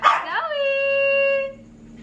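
A dog lets out a short yelp that rises into a single drawn-out howl, loud and close, then fades.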